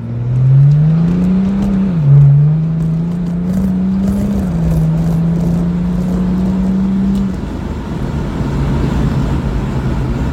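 BMW 335d diesel car accelerating hard, a loud close engine pulling through rising revs with gear changes, then the engine note easing off, no talking.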